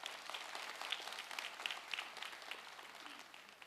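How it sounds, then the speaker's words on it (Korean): A church congregation gives encouraging applause to the children during a Sunday service, a soft, fairly distant patter of many hands that thins slightly toward the end. "수고하신 우리 자녀들에게 격려의 박수로 드리시겠습니다"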